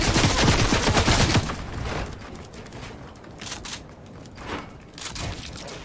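Bursts of gunfire in the video game Fortnite: a dense rapid volley at the start fades into scattered shots and mechanical clatter, loud and close, with no voices.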